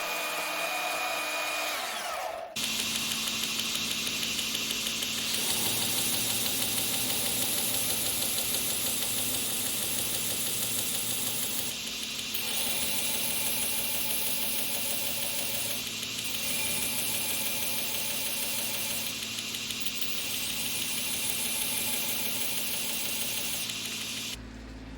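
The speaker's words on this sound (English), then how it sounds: "then refine it further on the grinder." A belt grinder refines a Damascus steel chef's knife blank, starting up after a moment of quiet into a loud, continuous motor whine and abrasive hiss, with brief dips where the pressure on the blade eases.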